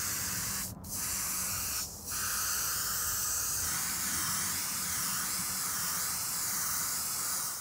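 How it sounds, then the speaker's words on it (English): Airbrush spraying gold Createx paint onto a prop sword and shield, a steady loud hiss that holds for the whole stretch and drops out in two brief gaps near the start where the trigger is released. "We've got a gold paint, same Createx paint in the airbrush, so why don't we go paint it gold."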